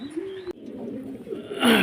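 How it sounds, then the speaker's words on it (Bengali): Pigeons at a pigeon farm coo in low, soft throaty calls, with a brief sharp click partway through and a burst of brighter noise at the end; no talking. "টপ কোয়ালিটির কবুতর এগুলো টপ"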